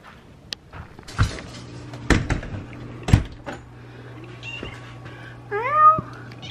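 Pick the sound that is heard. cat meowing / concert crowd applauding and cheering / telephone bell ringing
cat meowing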